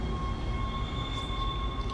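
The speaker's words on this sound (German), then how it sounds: "fahren wir mit der Tram mal gleich ins nächste Kapitel" A tram in the video game Dead Space rolls along its rails with a steady rumble and a faint whine running above it, continuous and fairly close, with no talking.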